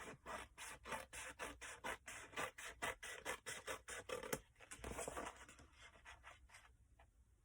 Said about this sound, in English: I'm going to turn it around and I'm going to cut this one away completely.